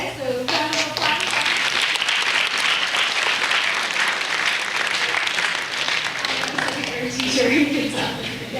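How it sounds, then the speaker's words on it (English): An audience at a school fall sports program applauding, a sustained wash of many hands clapping at steady loudness, with voices briefly heard at the start and near the end. "so round of applause"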